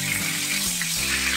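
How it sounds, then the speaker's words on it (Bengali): Pointed gourd (potol) fries in hot oil in a pan, giving a loud, steady sizzle and crackle close by, with no voice over it. "পটলগুলো ভাজা হয়ে গেছে"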